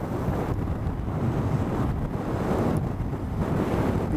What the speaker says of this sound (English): I can feel the wind in my hair